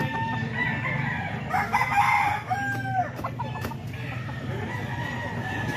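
A seven-month-old national banded rooster crows loudly and close by, one long drawn-out crow over a background of steady farmyard clucking from other chickens.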